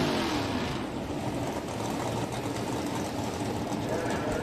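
A Ford drag race car's engine runs at a steady, crisp high-pitched drone at a street drag racing event, with crowd and track noise beneath it.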